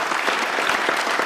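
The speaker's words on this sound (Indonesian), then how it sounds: "boleh diberikan tepuk tangan Pak Jokowi" A crowd at an Indonesian presidential candidate event claps for Jokowi in a short, dense burst of steady applause, loud and close.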